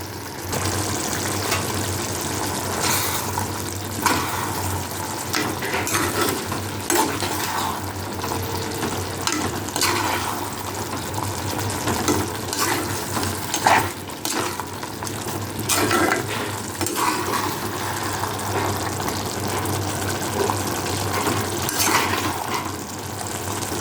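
Mushroom pieces sautéing in a pan until golden brown, with a continuous loud sizzle and frequent scraping stirs, steady and close throughout with no voices.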